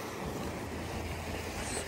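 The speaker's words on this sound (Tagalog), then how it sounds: "Nakakamiss yung tunog ng alon." Sea waves wash against a rocky shore as a steady, broad rushing roar with faint wind noise and no distinct individual breakers.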